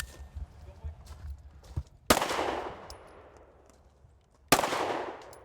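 Two sharp gunshots ring out at a steel plate rack on an outdoor range, about two and a half seconds apart, each with a long decaying echo over quiet background.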